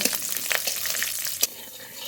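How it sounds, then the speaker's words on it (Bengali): Whole garlic fries with cumin in mustard oil in a wok, a close, bright sizzle with a few stirring scrapes and one sharp crackle near the end of the short stretch. "রসুনটা একটু ভাজা ভাজা করে নেব"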